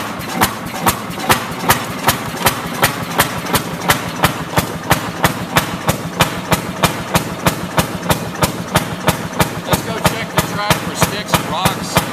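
A Fairmont S2 rail motor car's engine fires and idles, a loud, steady run of evenly spaced sharp exhaust beats, close by, with some voice mixed in.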